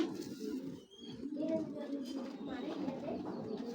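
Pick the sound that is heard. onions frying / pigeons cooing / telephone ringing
pigeons cooing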